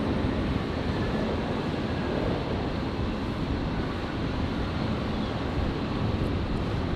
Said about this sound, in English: Qantas 624 just touching down from Melbourne